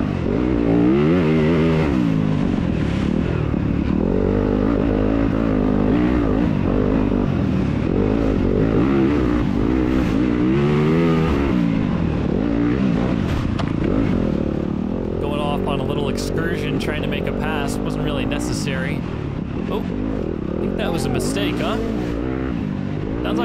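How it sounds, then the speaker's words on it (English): Dirt bikes, including a 2021 Yamaha YZ250FX four-stroke, rev hard during a Kingston scrambler race, a dense, loud, continuous engine roar with rising and falling revs from close riders throughout. "Guys behind me revving it up."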